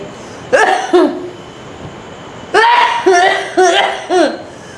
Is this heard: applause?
no